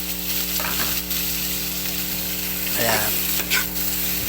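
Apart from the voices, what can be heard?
tomatoes frying in a pan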